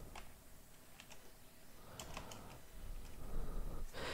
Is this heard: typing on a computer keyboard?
yes